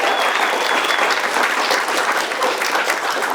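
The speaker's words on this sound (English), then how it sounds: "applause?" A conference audience at PromptConf applauds, dense, steady clapping filling the room throughout, loud and close.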